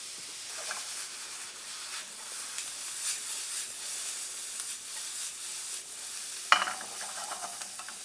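Diced vegetables for a turkey meatloaf sizzle steadily in a hot pan, a soft, continuous frying hiss with a sharper scrape of stirring near the end, fairly quiet and with no voices.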